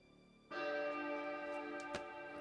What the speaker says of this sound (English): and then suddenly the church bell is there.